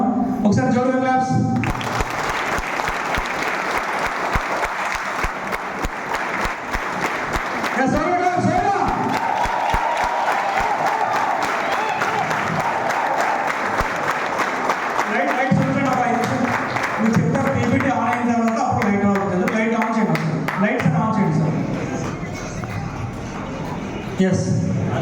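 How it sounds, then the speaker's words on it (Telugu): An audience at a Vestige training session claps loudly in a dense, sustained burst of applause, while a voice speaks over the clapping near the middle. "ఒకసారి జోరుగా క్లాప్స్"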